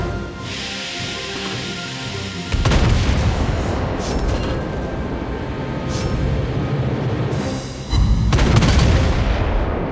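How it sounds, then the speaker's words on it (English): Heavy anti-aircraft gunfire from a cruiser in the naval combat game World of Warships Blitz, loud and sustained rumbling bursts that swell in two waves, with sharp crackling reports over a dense roar. "Anti-aircraft gun on full alert."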